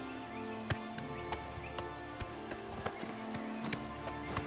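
Horse hooves clip-clop at an easy pace in Oblivion Remastered, a quiet run of soft, evenly spaced thuds over faint ambient background.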